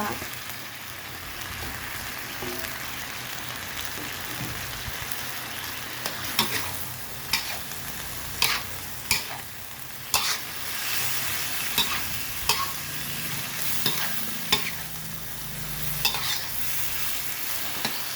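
Boiled bamboo shoots being stir-fried with pork in a pan, a steady soft sizzle punctuated by regular spatula scrapes and knocks against the pan, close-up.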